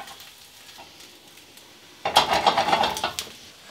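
Tempeh frying and browning in a pan, a quiet background sizzle that abruptly turns into loud crackling and scraping as pieces are stirred and turned for about a second, then eases off again.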